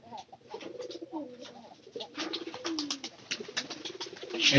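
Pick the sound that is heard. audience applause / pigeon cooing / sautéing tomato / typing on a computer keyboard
pigeon cooing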